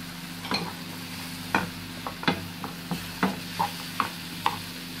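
Peppers stirred and scraped in a frying pan, with a steady low sizzle under a string of distinct spoon-against-pan strokes, close and moderately loud, roughly one every half second.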